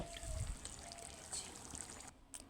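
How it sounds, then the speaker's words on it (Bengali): Dal being poured into a cooking pan, a faint soft wet pour and trickle lasting a couple of seconds with no voices. "এখন আমি ডালটা এখানে ঢেলে দিব"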